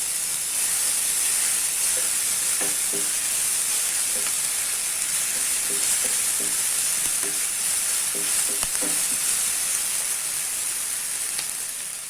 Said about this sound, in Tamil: வெங்காயம் ஓரளவுக்கு வதங்கிடுச்சு. நான் இஞ்சி பூண்டு பேஸ்ட் போட்டுக்கிறேன்.